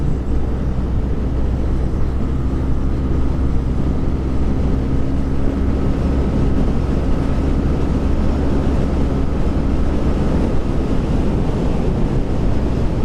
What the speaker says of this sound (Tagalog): Tok-tok yun, Hayabusa yung makina.